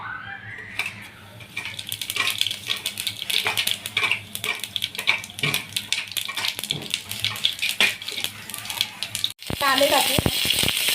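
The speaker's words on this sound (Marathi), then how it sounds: "आता आपण जिरं टाकू." Cumin seeds hitting hot oil in a pan while cooking a paneer and capsicum curry, a bright crackling sizzle with clinks of a spoon against the pan, under a voice.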